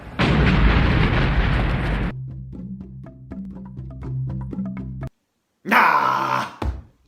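A grenade goes off in the anime film Akira: a loud, roaring blast lasting about two seconds, followed by ringing tonal sounds, then a brief silence and a second short, harsh burst.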